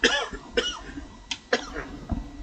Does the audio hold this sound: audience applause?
no